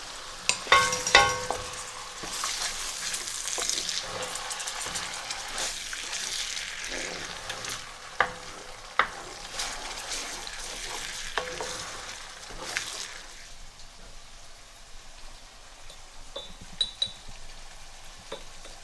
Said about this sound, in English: I'm now going to fry this together on the same heat, but I'm just going to keep the spoon moving